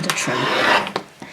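A rotary cutter slices quilt block fabric along a ruler in one steady rasping pass lasting under a second, followed by a couple of brief taps and clicks, close and fairly loud.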